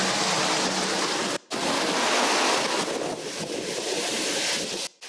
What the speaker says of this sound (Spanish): No, la lluvia es una locura.